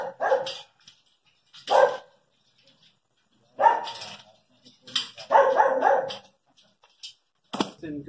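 A dog barks in several separate bursts spread over a few seconds, moderately close, with pauses of quiet in between.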